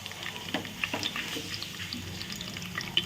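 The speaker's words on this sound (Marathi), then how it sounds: "जिरे लसूण छान फ्राय झाला" Crushed garlic and cumin seeds frying in hot oil make a soft, steady sizzle, with a few light stirring scrapes and pops scattered across the short stretch.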